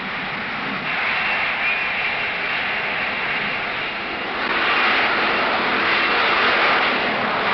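A Harrier jet's engine gives a continuous broad roar, steady at first and then swelling louder about halfway through, with no voices.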